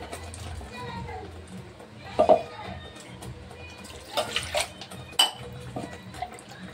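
Water is poured into a pan of okra bhaji on a kitchen stove, giving a soft splashing trickle with a few sharper clinks of the pan while a person talks over it.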